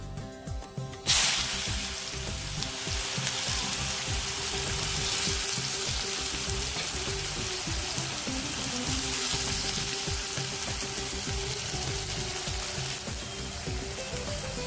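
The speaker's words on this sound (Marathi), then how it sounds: "कांदा छान 5-6 मिनिट बारीक गॅसवरती लालसर करून घ्यायचा" Onion sizzling in hot oil with bay leaf and turmeric on low gas, a loud burst as it hits the pan, then steady frying crackle with stirring scrapes.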